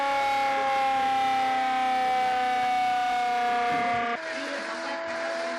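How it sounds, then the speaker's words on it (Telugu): An air raid siren sounding during a test at the police lines in Lucknow as part of mock drill rehearsals, a loud sustained wailing tone that holds steady then drops slightly in pitch near the end, with no talk. "రిహార్సల్స్ లో భాగంగా లక్నోలోని పోలీస్ లైన్స్ లో వైమానిక దాడి సైరన్ పరీక్ష నిర్వహించారు"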